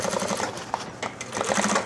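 A sewing machine back-tacking a backpack seam, a short close burst of rapid needle stitching that pauses briefly as it reverses, then runs again.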